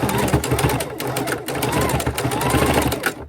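A sewing machine runs steadily at close range, its needle chattering in a fast mechanical rhythm with brief slowdowns, while someone talks over it.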